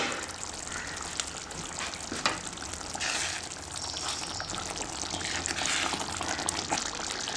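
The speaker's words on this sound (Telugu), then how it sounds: "ఇదంతా ఒకసారి మనం బాగా మిక్స్ చేసేసుకుందాము" Paneer butter masala curry with kasuri methi is stirred in a pan over heat, making a steady wet, bubbling sizzle with soft scraping that continues evenly throughout.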